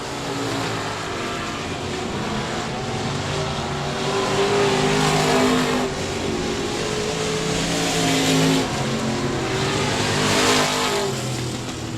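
Hobby stock race cars roar around the Speedway of Texarkana oval, engines revving loud and steady with rising and falling passes throughout, no talk.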